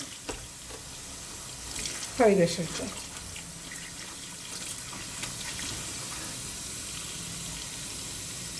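Tap water runs steadily into a kitchen sink while spinach is washed, a constant close rush with a brief splash early on, under a voice.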